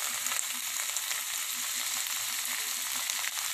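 Tomato sautés in a pan for bean toast, giving a steady, even frying hiss up close with soft, regular crackles and no voices.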